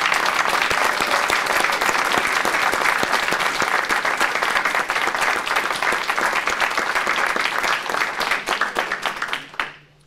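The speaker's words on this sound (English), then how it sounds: "let's give a big round of applause to the 2015 PACE Award winners" Sustained, loud audience applause for the 2015 PACE Award winners at an awards ceremony, a dense wash of many hands clapping steadily for about nine seconds before tapering off abruptly at the end.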